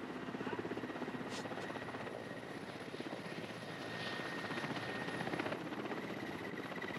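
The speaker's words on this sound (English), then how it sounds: "they are brought aboard to the relative safety of a helicopter hovering in the treetops" A helicopter hovers over treetops, its rotor giving a continuous rapid thumping drone with engine whine, moderately distant and steady, with no voices.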